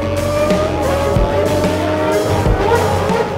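A Formula One car, Alain Prost's, pulls into the pits during a race, its engine droning loudly with shifting pitch and brief tire squeals, close and continuous, with faint crowd or commentary noise underneath.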